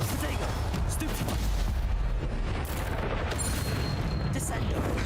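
Spells being cast with booming explosions in the Hogwarts Legacy video game, a dense, loud barrage of blasts and impacts running continuously with no pauses.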